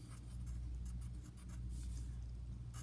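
Pen strokes scratch steadily across a paper map of New York State, a close, continuous scribbling texture with short bursts as letters form, heard alone without talk.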